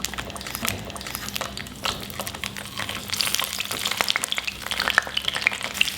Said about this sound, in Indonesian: Seperti biasa, cabai bawang ini kita goreng dulu ya